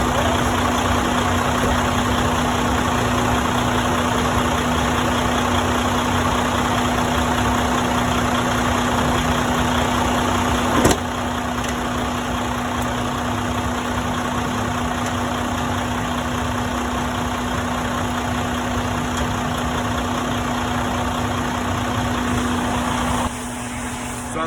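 A Detroit DD15/DD13 truck engine idles steadily to build air pressure after an air compressor discharge line replacement, a constant close low drone with a faint high whine and a brief click partway through.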